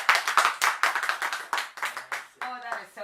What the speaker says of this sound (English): I think you should clap for Patoranking again, please.